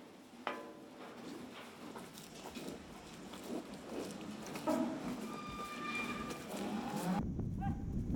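Yanbian yellow cattle low in a farm barn. Several drawn-out, tonal moos come through at moderate distance over a backdrop of shuffling and clattering barn noise.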